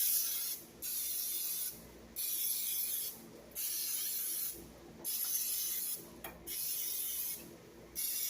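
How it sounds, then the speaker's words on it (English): Cooking spray hissing onto muffin tins in bursts, about six separate sprays of roughly a second each with short pauses between, close and clear with no talking. "Now I'm going to spray my muffin tins"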